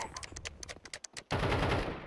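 Rapid automatic gunfire rattles in a quick burst of sharp shots in Counter-Strike 2, followed by a louder, sustained blast of firing at close range.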